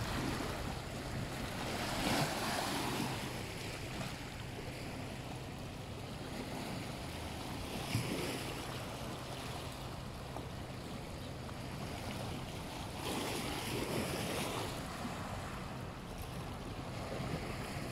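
Lake water washes and laps continuously against the shore at Versoix, with occasional stronger surges and a steady breeze in the background.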